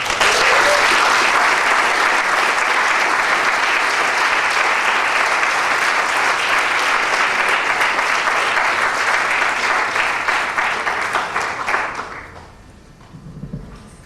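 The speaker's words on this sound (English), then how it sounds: "how about another round of applause?" A large audience gives a long, loud round of applause that holds steady for several seconds, then fades away and ends in near quiet.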